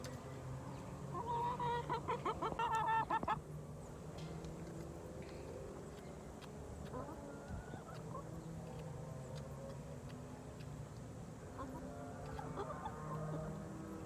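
Chickens cluck softly while being fed, a steady low murmur of fowl sounds under background noise, with a brief louder burst of chatter-like calls early on and scattered small clucks throughout.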